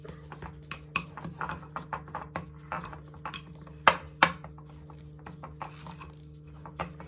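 Banana muffin batter mixed in a bowl with a utensil, giving repeated light clinks and scrapes in an uneven rhythm, close and fairly clear, with a couple of sharper knocks and no talk.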